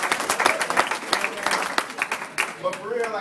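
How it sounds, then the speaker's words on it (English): Brief, lively applause and clapping from the audience at a stand-up comedy show, mixed with crowd voices for a few seconds. "We gonna laugh, clap it up."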